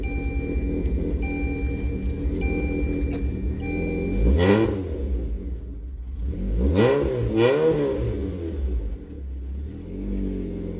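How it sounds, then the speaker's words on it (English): A car engine fitted with a newly installed supercharger idles loudly up close, then revs sharply three times in quick bursts and settles back to a steady idle with no voices. "And the supercharger sounds much better."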